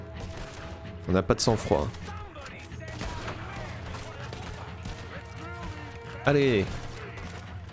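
Gunfire in the video game Red Dead Redemption 2, sparse shots and impacts under steady game ambience, with someone talking and shouting excitedly over the action.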